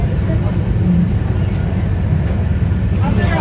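Darjeeling narrow-gauge toy train running from NJP: a steady loud rumble of wheels on rails heard from inside the carriage, continuous throughout, with a voice talking over it.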